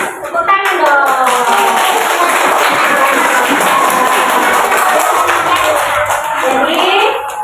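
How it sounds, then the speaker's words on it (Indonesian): Young pupils in a first-grade classroom clap their hands together in a loud, sustained burst of applause lasting several seconds, with overlapping claps and a few cheering voices. "Tepuk tangan dong."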